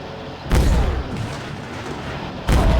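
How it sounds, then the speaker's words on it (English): Video game gunfire bursts out twice, each a sharp, heavy blast with a booming tail, about two seconds apart, over a dull background rumble. "Taking fire."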